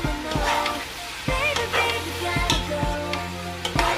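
Cabbage and potatoes seasoned with ground black pepper are stirred in a frying pan, giving repeated scraping strokes of a utensil over a steady close sizzle, with no talking.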